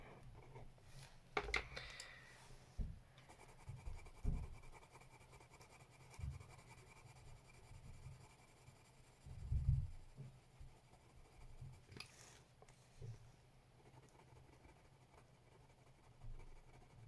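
A colored pencil scratches across paper, soft and close, in short intermittent strokes over a low background hum, faint overall with no talking.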